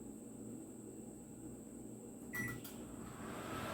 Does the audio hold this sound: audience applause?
no